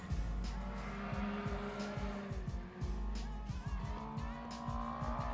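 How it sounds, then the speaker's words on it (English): Race cars at a circuit main event accelerate hard. Engines rise and fall through repeated gear shifts, loud and close, with tyre noise over a continuous racing roar. "You can definitely hear Dan Hearn's car just a little bit on the acceleration, a little different."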